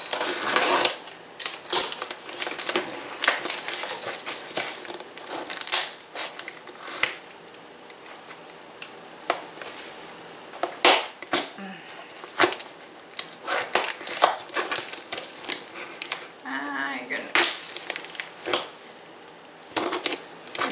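Dull scissors cut open a fan mail package, giving repeated crunching, rustling snips of cardboard and plastic that come in irregular bursts at close range.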